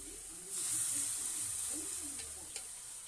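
Lentils (dal) tipped into a hot pan with chopped spinach, salt and turmeric burst into a loud, steady hissing sizzle that holds evenly, close up, with a small clink near the end.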